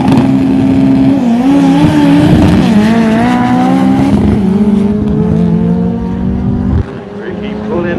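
Mitsubishi Evo 8 and other Evo drag cars roar off the line at the Hilo drag strip in Hawaii, a loud sustained engine howl rising through the gears, fading slightly at the end while an announcer talks over it.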